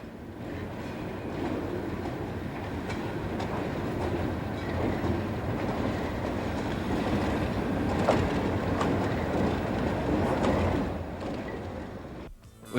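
Alco RS-3 and RS-1 diesel locomotives of the Susquehanna railroad at Honesdale, Pennsylvania, make a steady rumbling rail passage with faint wheel clatter, sustained at moderate loudness before cutting off sharply.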